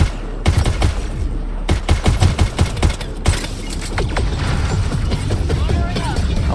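Rapid bursts of sci-fi weapon fire from a Mass Effect Andromeda firefight, loud sharp cracks clustered in the first half, then continuing action noise, with a voice talking over it.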